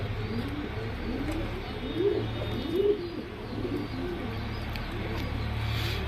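Dhuma pigeons, a rakdar pilanka male and a female, coo in a run of soft, rolling calls nearby, the repeated throaty phrases rising and falling over a quiet background hum.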